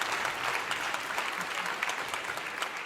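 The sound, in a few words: audience applause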